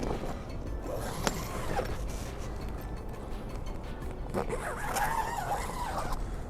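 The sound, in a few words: zipper on plastic boat shrink wrap being zipped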